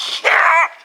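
A fox pup caught in a trap at a fox set lets out one high, strained yip that rises into a whiny cry, close and loud, then trails off.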